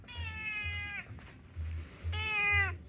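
A skinny stray cat meows twice, drawn-out and nasal, close by, with a low rumbling background noise between and under the calls.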